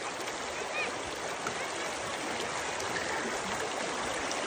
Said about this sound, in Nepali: कस्तो राम्रो खोला